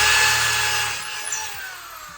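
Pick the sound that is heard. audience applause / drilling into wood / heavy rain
drilling into wood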